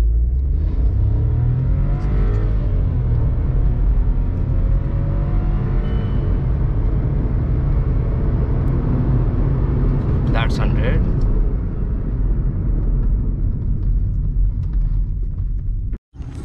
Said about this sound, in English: release the brake, full throttle.